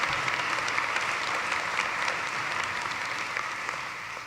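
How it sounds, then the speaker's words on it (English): A large commencement crowd in Gentile Arena gives the staff a round of applause, dense, continuous clapping that stays loud and even throughout and eases slightly toward the end. "Let's give the staff a round of applause."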